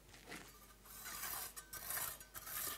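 Excess cement mortar is scraped off a fresh brick wall with a metal tool, faint close gritty scrapes and rasps in short irregular strokes.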